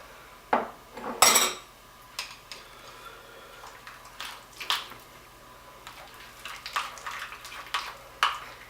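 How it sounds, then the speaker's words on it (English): A utensil mixes cream cheese and mayonnaise in a bowl for a hot cheesy bacon dip, giving intermittent clinks and scrapes against the bowl with soft squishing between, fairly quiet and without speech. "I'm going to grab my little bit of mayonnaise here. I'll mix that in there as well."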